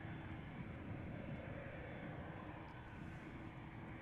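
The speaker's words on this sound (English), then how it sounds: "Next up is Air Canada Flight 809 going to Toronto, Canada. Boeing 787-9 Dreamliner." Air Canada Boeing 787-9 Dreamliner departs Amsterdam Schiphol Airport with a steady, broad jet roar at moderate distance, fairly faint and even across the few seconds, without talk.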